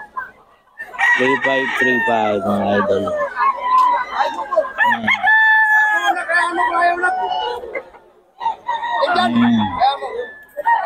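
Several gamecock roosters at a Filipino fowl seller's gathering crow loudly and repeatedly, up close, overlapping one another with clucks in between, while someone talks over them.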